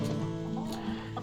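Chickens, older and younger birds mixed together in a newly built coop, clucking softly and intermittently over a steady background hum.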